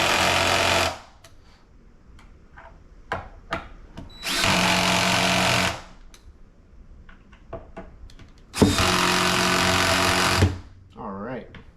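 Cordless power drill driving screws into a blown REL 1508 Predator home theater subwoofer driver during a swap, three loud sustained whirring bursts separated by quieter clicks, handling noise and brief talk.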